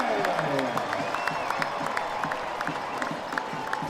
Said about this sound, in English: You can hear this crowd roar for Roro.